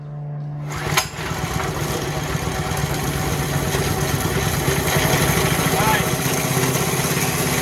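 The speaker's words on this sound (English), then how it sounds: "let's try to start it up and see if it'll go" A small go-kart engine is started after a short quiet moment and runs at a steady, buzzing idle close by, gradually getting slightly louder; a voice speaks briefly near the start.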